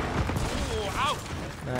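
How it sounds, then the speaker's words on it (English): Gunfire and grenade blasts in the video game Gears of War 4, with bursts of shooting and booms low in a busy mix, under excited voices. "Oh, more grenades!"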